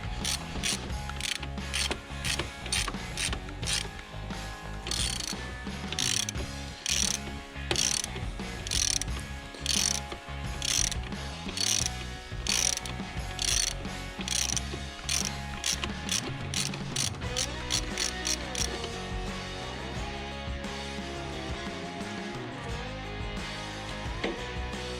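A ratchet wrench loosening the power steering high pressure line on a 2003 Subaru Outback, rapid clicking in bursts with pauses, close and clear, no talking over it.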